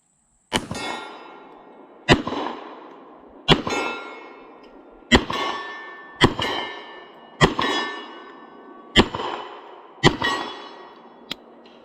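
A Sig Sauer 1911 Extreme .45 ACP pistol fires eight loud, sharp shots at about 30 yards, spaced at a slow, fairly even rhythm. Each report rings out and echoes briefly before the next.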